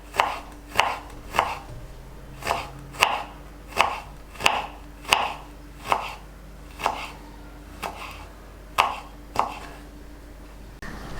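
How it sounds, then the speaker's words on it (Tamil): Knife slicing vegetables thinly on a cutting board for vegetable fried rice: a steady series of about fifteen crisp, close chops at an even rhythm, each a sharp knock against the board, with no talking. "சின்ன சின்னதாக இந்த மாதிரி மெலிசாக ஸ்லைஸ் பண்ணுறோம்."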